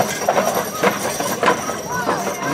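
Crowd noise at an outdoor horse pull as a team of horses drags a heavy sled loaded with about 8,000 pounds, with faint hoof thuds and clanking under continuous talk and cheering.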